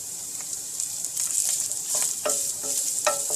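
Garlic and carrots being stirred into minced meat frying in a pan for a lasagna bolognese, steady close sizzle with repeated scraping strokes of a utensil against the pan.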